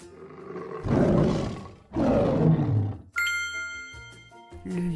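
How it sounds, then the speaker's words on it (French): A lion roars twice in loud, rough bursts, each about a second long, followed by bright chiming tones in a sound-guessing game. "Le lion, bravo."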